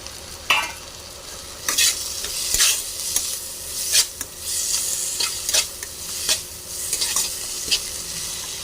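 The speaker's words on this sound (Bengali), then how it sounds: "ভালো করে মশলাটা কষে গেছে," Spice masala with green peas frying in a pan, a bright sizzle broken by repeated scraping stirs of a spatula against the metal, close and uneven in rhythm, with no voices.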